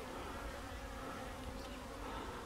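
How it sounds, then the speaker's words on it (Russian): Honeybees stream out of their hives on a February cleansing flight at about 8 degrees, a dense, continuous buzzing swarm filling the air at steady volume. "пчелы вылетают на облет"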